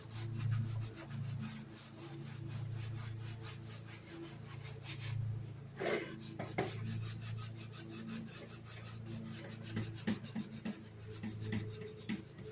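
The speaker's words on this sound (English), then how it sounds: "I'm just gonna have to scuff it up, get down to that primer." The primed surface of a kitchen cabinet is scuffed by hand with repeated close, rhythmic rubbing strokes, broken by a short pause and a few knocks partway through.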